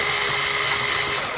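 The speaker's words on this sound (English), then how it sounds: "just put the drill in and move it in a circular motion just to make the hole a little bigger" A drill whines steadily at close range while its bit is worked around in a circle to widen a hole in a plastic laptop case, a continuous high motor tone with a gritty grinding underneath.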